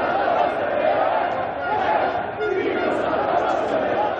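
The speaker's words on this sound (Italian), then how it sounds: "è esplosa in Piazza Duomo, dove migliaia di tifosi si sono riuniti" Thousands of Inter football fans celebrate the league title in Piazza Duomo, Milan, a dense, continuous roar of crowd noise with shouting and chanting, loud and sustained throughout.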